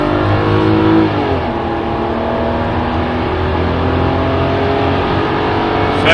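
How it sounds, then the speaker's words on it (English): A BMW 760Li E66 with a V12 engine accelerates hard at full throttle through the gears, its loud, smooth engine note climbing steadily and heard from inside the car. "So let's have a look how good this car can accelerate."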